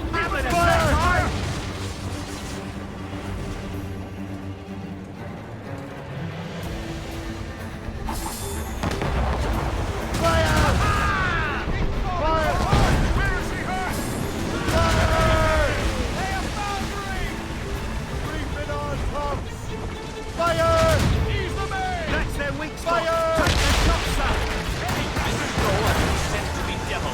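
Ship cannons fire in an Assassin's Creed Rogue naval battle, heavy booms rolling over ocean waves and creaking hull, mixed with shouted voices and orchestral music.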